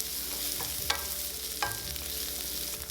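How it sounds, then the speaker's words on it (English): Lachang sausage, dried shrimp and shiitake mushrooms stir-fried in a wok over low heat give a steady sizzle, with two sharp spatula scrapes against the metal standing out, close up and without speech. "Add the lachang, dry shrimps, shiitake mushrooms, and stir fry on low heat until the aroma comes out for about 1 minute."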